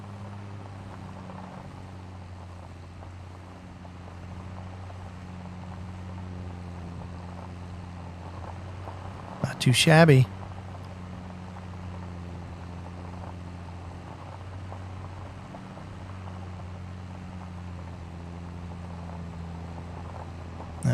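In Farming Simulator 25, a tractor engine pulling in a tractor pull makes a steady low drone with a droning harmonic hum throughout, broken midway by a brief loud burst, with a short spoken remark.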